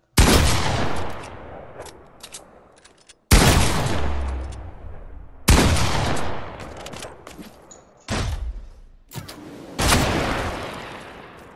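Sniper rifle shots in a video game, five loud close cracks spaced a couple of seconds apart, each trailing off into a long decaying echo.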